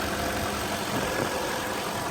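A 2007 Volvo XC90 Sport with the Yamaha 4.4 liter V8 and 95,000 miles idles, giving a smooth, constant hum with faint ticking that stays at a steady level, close and alone.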